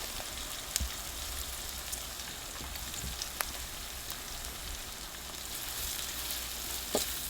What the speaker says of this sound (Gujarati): હવે આપણે છે ને ડુંગળીને થોડીક જરાક સડવા દઈએ